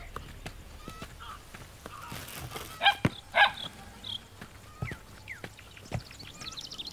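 A dog barks a couple of times at a moderate distance, short sharp yelps standing out over a quiet background with scattered clicks and faint ambient noise.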